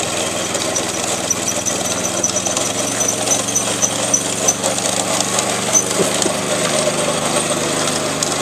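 A roughly 90-pound, pull-started Jackrabbit human transporter engine running: a loud, continuous small-engine drone with a steady buzzing tone throughout, with no talking.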